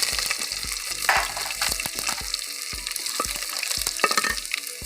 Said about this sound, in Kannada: ಎಣ್ಣೆ ಕಾದಿದೆ ಸ್ವಲ್ಪ ಸಾಸಿವೆ ಸ್ವಲ್ಪ ಜೀರಿಗೆ ಬೆಳ್ಳುಳ್ಳಿ ಜಟ್ಕೊಂಡಿರೋಂಥ ಬೆಳ್ಳುಳ್ಳಿ